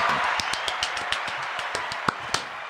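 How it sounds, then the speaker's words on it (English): Applause for a podcast's season finale comes as a light patter of hands clapping over a hissy background, with a few sharper individual claps standing out, moderately close. "So another round of applause for that."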